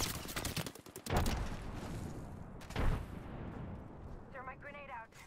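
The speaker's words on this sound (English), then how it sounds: "The enemies are shooting at me. Taking fire." Gunfire in the video game Apex Legends, with dense rapid shots and rattling bursts from enemies filling the whole stretch at moderate level, a sharp louder blast near the middle, and a short voice near the end.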